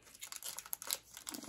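Foil Garbage Pail Kids trading card packs crinkle and rip as they are pulled open by hand, a quiet, close burst of crackling and tearing lasting a second or two.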